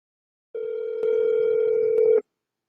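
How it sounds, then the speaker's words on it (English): A steady telephone tone sounds for about a second and a half while a phone call is placed, close and clear, with two faint clicks partway through and silence on either side. "Let me make the phone call."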